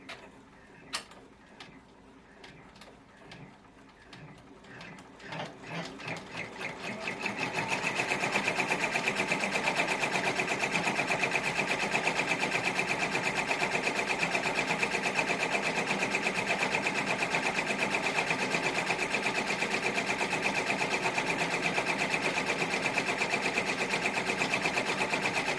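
An embroidery machine stitching a letter: a few scattered clicks and motor whirs give way after several seconds to a loud, steady, fast mechanical stitching drone that runs unbroken to the end. No one talks.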